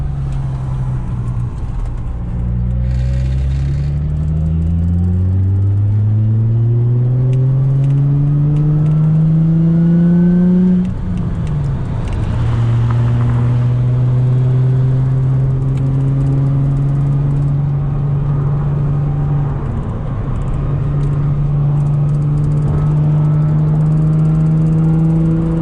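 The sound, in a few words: Nissan 350Z engine accelerating while merging onto freeway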